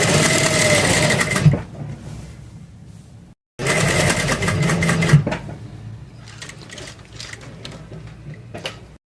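A sewing machine stitches along the fusing on a fabric neck design. Two close, rattling bursts of stitching break off into quieter gaps with soft clicks and handling noise.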